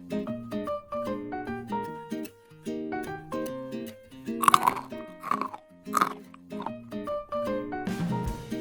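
Hapi spicy Sriracha flavored peas are crunched and chewed close up, with sharp, bright crunches in quick bursts followed by softer chewing, and a few louder bites in the middle.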